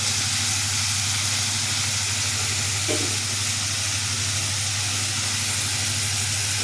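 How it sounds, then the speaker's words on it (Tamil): Black nightshade (manathakkali) berries sautéing in hot oil in a pan, a steady broad sizzle with a low hum underneath, continuous and fairly close, with one brief stir mid-way. "இப்போ அதையும் அது கூட போட்டு நல்லா வதக்குறோம் மணத்தக்காளி காயை"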